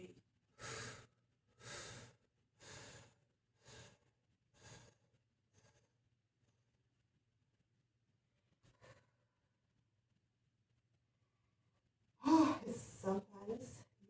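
During a yoga breathing exercise, a series of short, soft breath pulses sounds close at about one-second intervals, followed by a long quiet stretch, then a voice speaking at the end.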